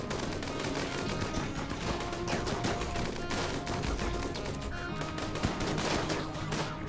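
Video game gunfire, a dense continuous barrage of rapid shots and bursts, loud and sustained across the whole stretch with no speech.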